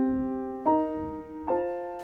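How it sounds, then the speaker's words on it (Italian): A miked piano sounding in a room, with the room reflections audible: two clear struck notes or chords, each ringing out and decaying smoothly into the space, with no voices. "È il suono del pianoforte nella stanza, quindi certo, è le riflessioni nella stanza"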